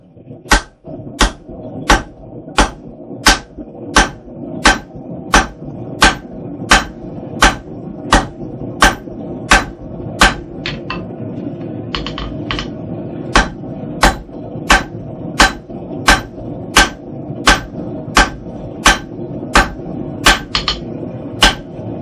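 A blacksmith hammers hot steel on an anvil to taper a square punch, striking about twenty-five sharp, ringing blows in a steady, even rhythm at close range, with a faint background hum between strikes.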